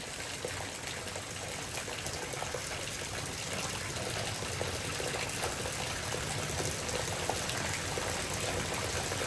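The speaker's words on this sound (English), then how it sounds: "it's just torrential downpours right now." Torrential rain pours down during a strong thunderstorm in Frisco, Texas, a steady, dense hiss of water that stays loud and unbroken throughout, with no voices.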